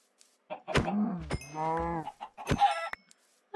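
Several video game chickens cluck and squawk in short, clear bursts close by, with brief pauses between calls.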